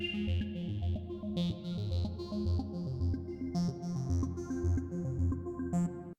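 Sparkly, washy arpeggiated synth layer from Parawave Rapid with detuned unison, a light low-pass filter and a touch of filter envelope, used for ambient pads; fast repeating bright notes ripple steadily over sustained lower tones with no talking.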